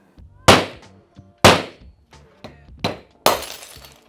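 Glass light bulb globes shattering in several sharp, loud bursts, each followed by tinkling fragments, about one smash per second, near and with no talk.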